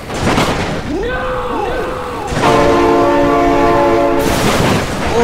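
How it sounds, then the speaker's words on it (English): A train horn sounds in the BeamNG.Drive video game, loud and close, with a sliding tone followed by a long sustained multi-note blast over rumbling rail noise. "my God, train!"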